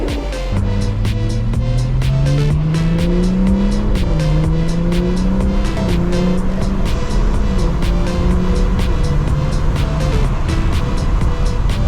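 Stage 2+ BMW 340i running on E50 ethanol blend drives through downtown Orlando at night, engine note rising and shifting through gears in a steady, loud drone with continuous road noise throughout.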